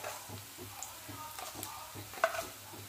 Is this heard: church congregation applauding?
no